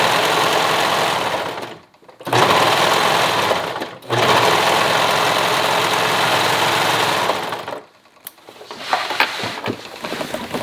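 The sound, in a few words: sewing machine stitching over elastic seam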